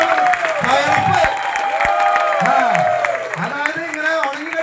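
Energetic applause and cheering from a crowd at an RCM program event in Kozhikode, loud and sustained clapping with shouts mixed in, while voices talk and call out over it throughout.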